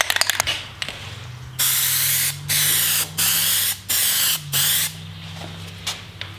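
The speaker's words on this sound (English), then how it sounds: "take your plasti dip can out of your bowl of hot water, give it a shake, and then spray this down" Aerosol can of Plasti Dip, warmed in hot water, hissing in five steady bursts of about half a second to a second each onto car emblems, close and loud, with a shaken can rattle at the start.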